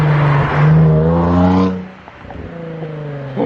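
A Jaguar F-Pace S with a new exhaust downshifts and accelerates, a loud rising engine roar that climbs in pitch, cuts off, then settles into a lower burbling growl up close.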